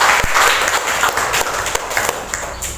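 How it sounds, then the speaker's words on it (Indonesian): Students in a classroom clap together in a burst of applause, dense and fairly close, tapering slightly over a few seconds. "beri aplaus dulu"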